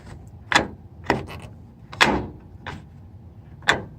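Five sharp plastic-and-metal clunks and snaps come from prying the sliding door handle off a Mitsubishi L400 van, irregularly spaced, close and loud, with quiet rustling between them.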